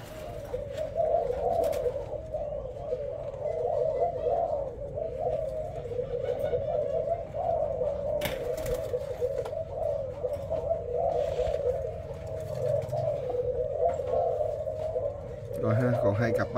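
Caged Thai spotted doves coo repeatedly in soft, rolling calls that overlap steadily through the clip, with a person talking over them.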